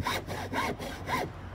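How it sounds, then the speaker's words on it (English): A hacksaw cuts through wood in three steady back-and-forth strokes, a close, dry rasping rhythm heard on its own. "Finish off with the hacksaw."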